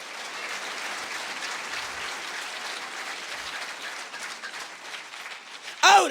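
Church congregation applauding steadily for about six seconds, a dense even patter of many hands at moderate loudness, with a brief louder burst near the end.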